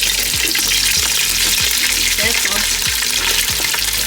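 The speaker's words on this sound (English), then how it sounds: "I'm gonna drop an onion in there just to take out the scent of the oil and for more flavoring" Onion drops into hot oil in a pan for fried rice, sizzling loudly and steadily up close while regular clacks of stirring sound. A voice briefly speaks over the frying.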